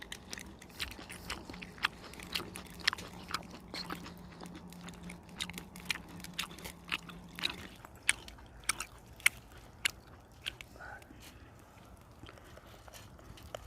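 Someone chews big grilled Tongyeong oysters in the shell, making close, crisp, irregular bites and squishy chews that repeat steadily throughout, with no talking.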